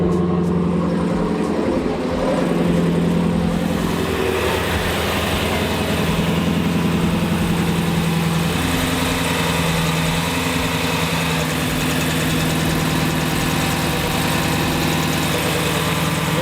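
A Jeep Grand Cherokee SRT engine idles steadily while warming up just after a start, a loud, close, continuous low rumble with an even tone and no talking.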